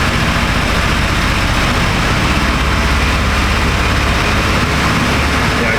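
A 1996 Chevy Astro Van engine runs with a misfire on cylinder 5, a loud, dense, continuous rumble held at slightly raised revs, close and unbroken throughout.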